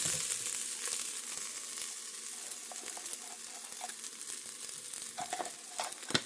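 Spices, including smoky paprika and coriander, fry in oil for a green lentil dahl, giving a soft, steady sizzle with scattered clicks and scrapes from stirring, close by and fairly quiet.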